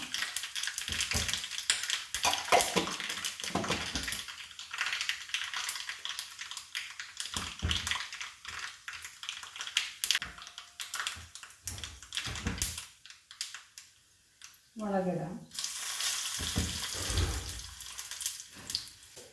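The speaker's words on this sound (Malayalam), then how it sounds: "കടുക് പൊട്ടിക്കഴിയുമ്പോൾ" Mustard seeds popping in hot coconut oil produce rapid crackling bursts, loud and close in the opening seconds, then thinning into scattered pops with quieter gaps before another dense flurry near the end.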